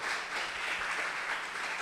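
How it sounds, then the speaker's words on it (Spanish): A congregation in a church service applauds to honour the King during a sermon. The clapping is steady and fairly faint, a dense wash of many hands heard from a distance, with no speech over it. "Dele ese fuerte aplauso al Rey."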